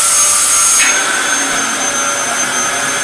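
An American Dyson DC07 vacuum cleaner runs on carpet with a steady, loud whine and airflow roar. Its pitch shifts slightly near the start, then the motor holds constant.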